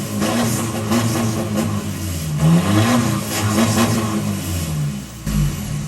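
An Isuzu Cab-4 pickup with a front-exit exhaust ahead of the axle revs steadily and loudly up close, with its engine note rising and falling in repeated swells and no talking.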